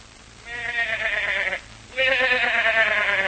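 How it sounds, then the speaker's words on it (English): A goat bleats twice, each call a loud, wavering, nasal cry about a second long, separated by a brief pause, close by and clear over faint background hiss. "This poor thing's the goat in more ways than one, Jim"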